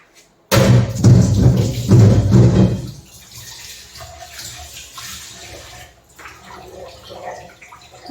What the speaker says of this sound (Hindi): और इसमें हम पानी डाल देंगे और थोड़ी देर में धोएंगे हम इसको, बर्तन को